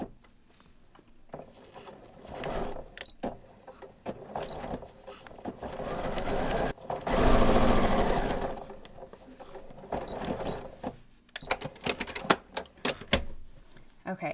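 Sewing machine top stitching a stretched waistband on pull-on pants, bursts of rapid mechanical whirring that start and stop, with a long steady run in the middle and soft talk between the stretches of stitching.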